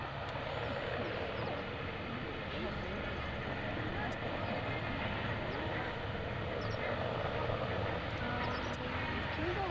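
A P-3C Orion, a four-turboprop patrol aircraft, takes off at an airshow with a steady, loud engine roar that holds throughout. A public-address announcer and crowd voices talk over it.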